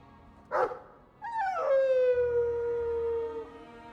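A dog in the video game Dragon Age II gives a short yip, then a drawn-out whining howl that slides downward in pitch, close and fairly loud, with no voices over it.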